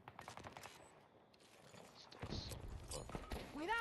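Gunfire in the video game Battlefield 2042, a burst of shots and combat noise that grows louder in the second half, with game voices heard over the action.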